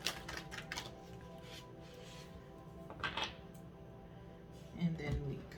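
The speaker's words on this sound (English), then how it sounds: "Last shuffle." A deck of oracle cards is shuffled by hand, giving quiet papery riffles and soft taps in short bursts, faint and close against a low background hum.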